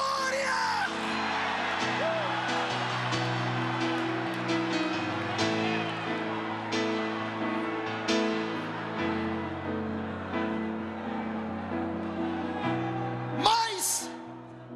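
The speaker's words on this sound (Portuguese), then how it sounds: "dá um grito de glória" A church congregation raises a loud collective shout of glory, a sustained mass of voices and yells filling the space, swelling and ebbing over several seconds and peaking in a sharp whoop near the end.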